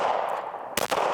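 A single sharp shot from a PSA Rock pistol during live fire, a brief loud broadband crack near the end over a steady background hum.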